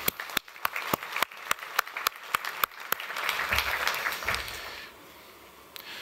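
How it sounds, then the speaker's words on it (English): Applause for military veterans from a keynote audience at a crime prevention and communities conference: a burst of individual claps that swells into dense, sustained clapping, then fades away near the end. "So again, to any of you vets out there, big round of applause."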